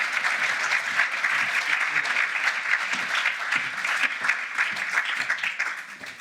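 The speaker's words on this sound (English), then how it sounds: "give him a round of applause" An audience at a start-up day event applauds a speaker in the room with warm, even clapping that holds steady for several seconds before easing off at the end.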